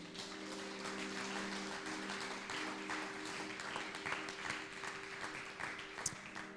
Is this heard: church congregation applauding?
yes